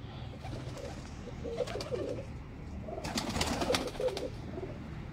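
Soft, low cooing of pigeons, repeated in short bursts over a steady background murmur, with a couple of louder flurries.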